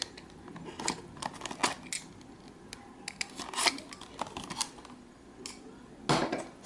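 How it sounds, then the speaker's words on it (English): Scissors cutting through packing tape on a cardboard box during an unboxing, a close, irregular series of snips, scrapes and crinkly tape rips with no talking. "Alright, so I got the tape cut."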